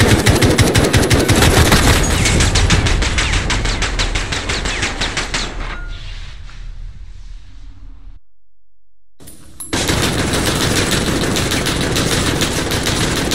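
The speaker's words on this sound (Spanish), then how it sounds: "¡Munido de ametralladora!" Machine gun fire in Modern Warfare rattles in long, loud, rapid bursts, drops away into a brief silence, then starts up again just as hard.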